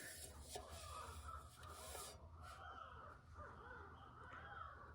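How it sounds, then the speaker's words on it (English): Crows cawing outdoors near a stove, harsh repeated calls at moderate distance over a steady background hiss, with a few rasping scrapes mixed in. "Sorry, I got owls and birds outside."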